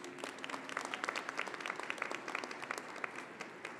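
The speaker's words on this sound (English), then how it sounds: "Let's give them a round of applause" Commencement ceremony audience applauding at a university graduation, many hands clapping steadily in a large hall, heard at a moderate distance and fairly faint.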